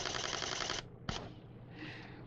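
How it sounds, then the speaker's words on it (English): A mirrorless camera fires at 12 frames per second, a rapid, even rattle of shutter clicks close to the mic for under a second, then one more sharp click and quiet room tone. "you still got the shutter going up and down, and that's shooting at 12 frames per second"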